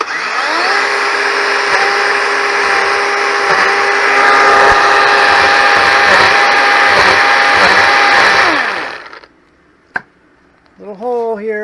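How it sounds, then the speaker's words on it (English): A power drill bores a hole into a Christmas tree trunk, a steady loud whine that holds for about eight seconds and then cuts off, followed by a brief knock and a short spoken word. "you can drill that out"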